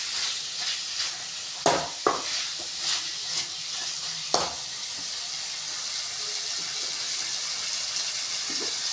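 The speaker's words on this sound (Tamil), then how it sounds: "கொஞ்சம் காரத்துக்காக வெறும் மிளகாய்த்தூள் இப்போ போட்டுட்டு நல்லா வதக்கிட்டு இருக்கோம்" Chili powder sautéed in a pan for Tamil chicken kulambu, with a soft steady sizzle broken by several sharp scrapes and stirring knocks of a spoon against the pan.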